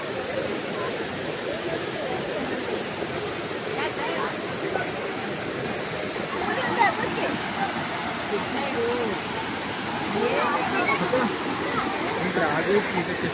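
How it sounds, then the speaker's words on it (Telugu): Steady, full-bodied roar of a waterfall near Araku rushing continuously, close and loud, with faint voices occasionally audible beneath the water. "ఇక్కడ వాటర్ ఫాల్స్కి వచ్చాము"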